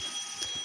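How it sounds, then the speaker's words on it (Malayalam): A digital alarm clock beeps with a thin, high electronic tone, steady and fairly quiet, in a home before dawn during Ramadan. "അലാറം ഇങ്ങനെ അടിക്കുന്നു."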